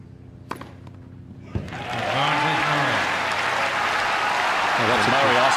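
A ball is struck and lands on a grass court at Queen's in 2005, then the tennis crowd bursts into loud, sustained applause and cheering, with a commentator's voice talking over the clapping.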